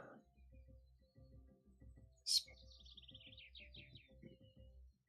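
A short bird chirp and trill sounds once, sharp and high, rising over a quiet low hum and rustling, then fading into a rapid fluttering series of notes.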